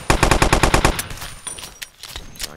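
A rapid burst of about nine Kriss submachine gun shots in Blockade 3D, close and loud, followed by fainter scattered gunfire and clicks.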